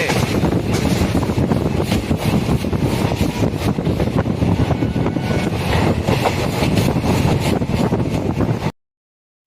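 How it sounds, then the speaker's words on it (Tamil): A passenger train pulls away from Villupuram toward Chennai, heard from on board as a loud, steady rolling rumble with rattling rails and gusting wind noise, ending abruptly. "இப்போ நம்ம ரயில் வந்து விழுப்புரத்தை விட்டு புறப்பட்டு விட்டது"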